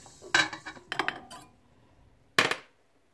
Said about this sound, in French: je vais renverser mes œufs entiers dans la cuve du batteur